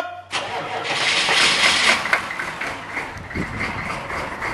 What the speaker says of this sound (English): Crank her up.